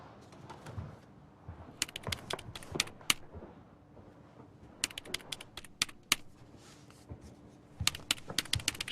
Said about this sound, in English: She's typing something on her keyboard.